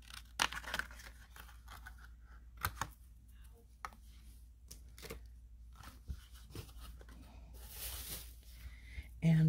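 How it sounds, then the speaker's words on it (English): A small tab snipped off a plastic bead-stringing wire spool for a lemon crescent necklace, heard as a few sharp close clicks and snips scattered among quiet handling sounds. "when I take a new one out, I cut this little tab off right here."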